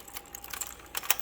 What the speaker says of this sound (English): So this old typewriter is a Electra 210.